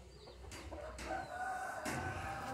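Chicks and a rooster cluck and peep in a backyard seen from a house veranda in Montes Claros, Brazil, short calls rising over steady outdoor ambience at moderate distance.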